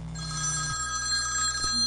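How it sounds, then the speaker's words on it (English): A telephone rings with a sustained electronic bell tone, loud and close, over a low steady hum. "Phone rings."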